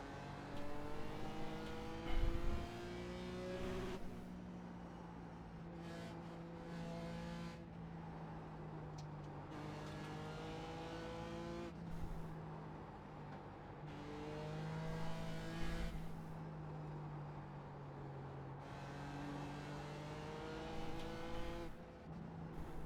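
A race car in a BMW racing video game laps a track, its engine droning steadily and rising and falling through upshifts, downshifts and braking for corners, loud and continuous throughout.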